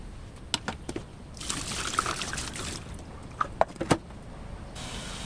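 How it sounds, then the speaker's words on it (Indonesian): Cold water pours and trickles over vegetables being rinsed after draining for pickle making, a steady splashing stream in the middle with a few sharp drips and clinks before and after, quiet and close, no talking. "lalu tiriskan dan bilas dengan air dingin"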